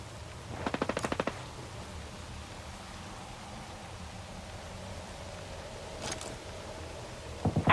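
Gunfire in the video game Ghost Recon Breakpoint: a short rapid burst of automatic shots early on, then quiet hiss, a fainter distant crack later, and another burst starting at the very end.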